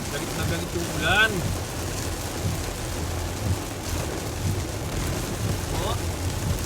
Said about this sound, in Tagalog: galit na galit yung ulan